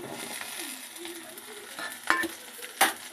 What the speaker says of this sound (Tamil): இப்போது இந்த வேண்டங்காயை இதில் கொட்ட போகிறேன்